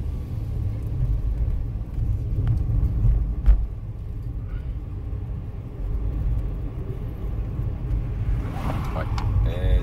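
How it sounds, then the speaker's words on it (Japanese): A Keihan bus approaches along the road, its low engine rumble and road noise steady and continuous alongside the surrounding traffic, swelling slightly toward the end. "前方から京阪バスが走ってきてますね"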